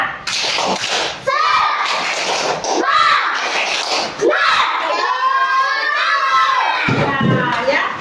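A class of children performs a rhythmic clapping cheer in a classroom, sharp claps falling in patterned bursts amid loud shouting and chanting voices, close and lively.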